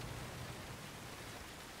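Steady rain falling in the video game Road 96, a constant soft hiss of even downpour with no other sounds.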